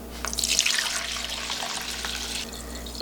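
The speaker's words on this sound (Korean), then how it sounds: "이거는 이렇게 병에다가 담아 놓겠습니다" Homemade grape wine, the clear upper layer, is poured from a container into a bottle, giving a steady splashing stream of liquid for about three seconds, fairly close, with no talk.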